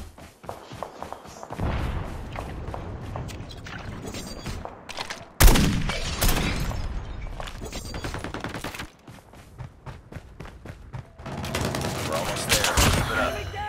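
Gunfire in a Call of Duty video game comes in loud rapid bursts and single shots, with quieter gaps, footsteps and running between the volleys.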